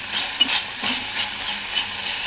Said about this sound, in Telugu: అల్లం వెల్లుల్లి పేస్ట్ ముద్దగా ఒకచోటే ఉండకుండా ఈవెన్గా స్ప్రెడ్ అయ్యి బాగా వేగుతుంది.